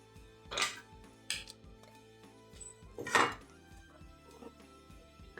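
Cooked rice with green peas is scooped from a pressure cooker onto a plate: a few sharp metallic clinks and scrapes of a ladle against the pot, close and sparse, with quiet gaps between.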